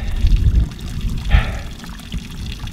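A small stream of water trickles and burbles near the source of the River Dart on open moorland, a steady low gurgle close by with wind rumbling across the ground.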